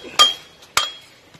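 A hammer taps on a metal part of a Ford Ranger turbo during cleaning, giving two sharp, ringing clinks a little over half a second apart and a faint third tap, close and otherwise quiet.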